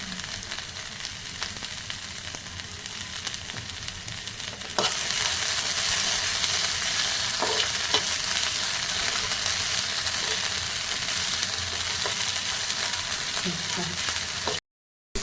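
Sweet corn and peanuts fry in hot oil, stirred with salt and chili, making a continuous close sizzle that grows louder and denser partway through, with occasional stirring knocks, before cutting off abruptly.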